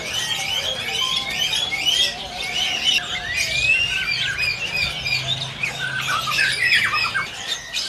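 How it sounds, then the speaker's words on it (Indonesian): A kacor songbird in an Indonesian bird market kiosk calls again and again with sharp, bright squawks and chirps, loud and near, over a faint murmur of the shop. "buat teman-teman yang lagi nyari burung kacor udah gacoran seperti ini bisa juga langsung merapat ke kios Mas Aris"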